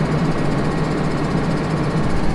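A strong pump fills a sprayer tank on a cotton-planting farm, giving a loud, steady mechanical drone with a deep rumbling undertone that holds unbroken throughout.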